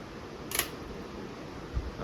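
A single film camera shutter click opens, followed about a second later by a soft closing click for a one-second exposure, in a quiet room.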